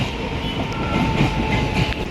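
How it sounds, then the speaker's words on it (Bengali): A train rolling past on a railway line beside a road crossing, close and loud, with a continuous low rumble and rhythmic wheel clatter over the rails. "ট্রেন চলে গেলে রাস্তাটা পার হবো"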